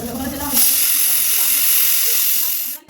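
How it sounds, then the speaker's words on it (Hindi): A pressure cooker whistle shrieks as steam bursts out during vegetable cooking. It starts with a brief murmur, then a loud, steady, hissing blast holds for about two seconds before cutting off abruptly. "तो दोस्तों सीटी तो आ चुकी है।"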